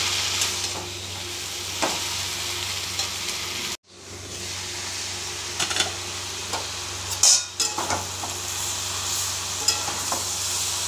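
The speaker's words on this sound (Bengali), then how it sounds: "সবজি শাক একসঙ্গে এবার ভাজা ভাজা হয়ে গেছে" Vegetables and bottle gourd greens fry together in a pan with a steady, fairly loud sizzle, a brief dropout partway through, and a few light utensil clicks and stirs.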